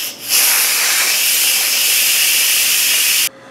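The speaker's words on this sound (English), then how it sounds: "We're gonna go ahead and do a quick release and let all the steam out of the unit." An Instant Pot pressure cooker on quick release blasts out a loud, steady hiss of venting steam for about three seconds, then cuts off sharply, leaving quieter room sound.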